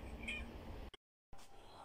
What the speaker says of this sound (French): Tiens Minou, qu'est-ce que tu veux